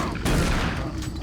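A shotgun blast rings out in DOOM 3 BFG Edition, a single loud, sharp boom with a brief ringing decay, heard alone.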